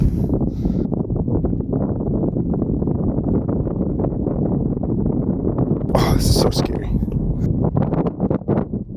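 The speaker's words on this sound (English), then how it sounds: "It's so windy." Strong wind on the summit of Black Butte near Mount Shasta buffets the microphone in loud, continuous gusts and rumbles, with a person speaking briefly over the roar.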